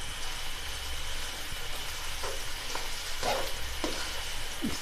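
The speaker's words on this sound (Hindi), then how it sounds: "इसको भी फ्राई करते हैं हल्का सा।" Sliced chicken and long-cut vegetables frying lightly in a pan, a continuous soft sizzle with occasional small clicks and scrapes of a utensil, close and steady without talk.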